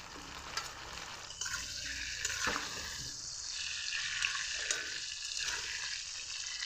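Chopped tomatoes go into fried potatoes over a low gas flame and sizzle steadily in the pan. A few soft stirring scrapes sound close and fairly quiet, with no one talking.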